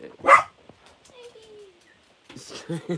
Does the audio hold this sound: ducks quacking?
no